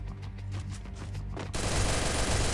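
Rapid automatic gunfire in the mobile battle royale game Free Fire, a sustained close burst of shots that swells into a dense, loud volley halfway through, no talking.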